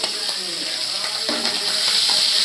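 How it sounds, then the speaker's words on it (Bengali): Kach kolar muitha, plantain dumplings, fry in hot oil in a pan with a steady, dense sizzle and bubbling crackle running throughout, close and fairly loud with no voices. "ভালো করে 2 মিনিটটা ভাজতে তুলে ফেলাম"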